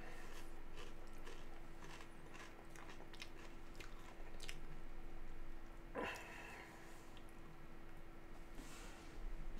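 Crunchy cereal being chewed close to the mouth, a steady run of soft crunching and squishing bites for several seconds with one sharper crunch midway.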